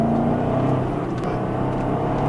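A 2011 BMW X5 M SUV engine, stock, revving hard in second gear, a loud, continuous throaty drone held steadily throughout with no voices.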